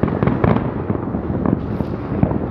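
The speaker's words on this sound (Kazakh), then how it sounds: "Осындай салютты алып, ақшаның бәрін аспанға шашқанша." Fireworks salute bursts over Almaty, a dense rapid crackle of repeated loud pops and bangs going on continuously, fairly close, with no voices.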